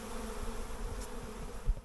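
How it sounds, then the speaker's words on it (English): A swarm of roughly thirty thousand bees gives off a steady, dense buzzing drone at moderate level, with no voices present. "Thousands of bees"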